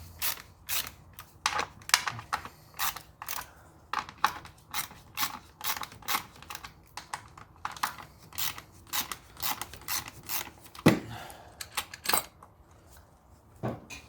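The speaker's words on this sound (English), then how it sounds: "You're going to grab a E8 inverted Torx. You're going to loose off these brackets." A ratchet works an E8 inverted Torx on the fuel injector brackets of a BMW, giving quick runs of sharp clicking strokes in uneven bursts, close and fairly quiet, with no talking.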